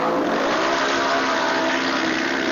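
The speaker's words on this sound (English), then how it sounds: "these things are loud. The UTV race is rolling, folks." Several UTV race engines roar loudly and continuously at an off-road GNCC race, a dense, unbroken rumble of revving motors with no voices over it.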